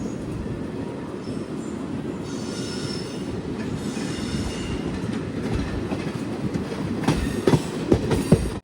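Jan Shatabdi Express from Thiruvananthapuram to Kozhikode rolls along past Aluva with a steady, close rumble of wheels on track, heard from on board, with sharper clacks and squealing rising toward the end.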